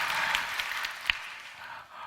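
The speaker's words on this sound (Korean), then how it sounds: "박수까지요? 확실히 쳐주세요" A congregation at a Korean church prayer gathering claps in a brief, moderate wash of applause, with one sharper clap standing out near the middle; no voices over it.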